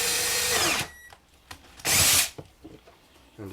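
A power drill bores through a board with a sacrificial board beneath, whining loudly for under a second, then again in a second short burst, with brief clunks and handling noises between.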